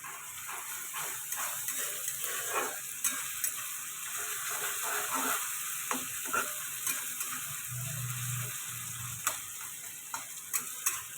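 Ginger garlic paste sizzles and fries in a pan while a spoon stirs it, with soft scraping and ticking strokes over a steady frying hiss in a quiet kitchen.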